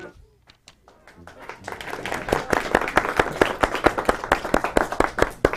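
After a few scattered claps, applause builds into a steady round of clapping from a small group, brisk and fairly close.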